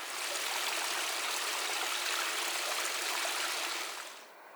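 A small creek in the Hoh River valley of Olympic National Park, Washington, runs steadily with a broad, constant rush of water, nearby and fairly loud, fading slightly right at the end.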